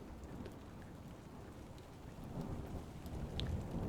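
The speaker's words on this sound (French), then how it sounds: "on peut entendre au loin le tonnerre qui gronde" Distant thunder rumbles low and rolls through a storm, with steady rain hissing throughout and the rumble swelling louder toward the end.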